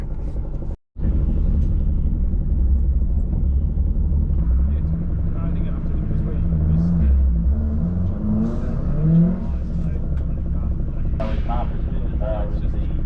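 A small 55-kilowatt Toyota Starlet racing up a mountain road, its engine droning loud and steady with revving and accelerating surges and heavy rumble throughout, briefly cutting out near the start.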